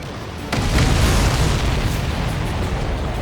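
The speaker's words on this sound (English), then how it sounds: "Did you see that explosion?" An enemy supply ship blows up in the Ace Combat 7 flight game, a sudden loud boom that swells into a sustained, roaring rumble filling the rest of the moment.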